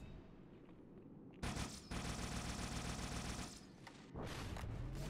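Loud bursts of rapid automatic gunfire in Halo 2 Anniversary, fired at Brutes: one short volley followed by a long sustained stream, then another burst after a brief gap.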